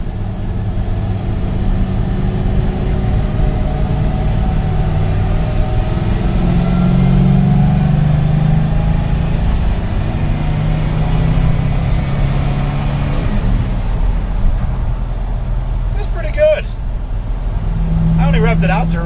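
A GMT800 2500 Suburban engine accelerates in third gear while merging onto a freeway, revving to about 4,000 RPM: a loud, steady mid-range drone with rising tones heard from inside the cabin, with a person talking over it.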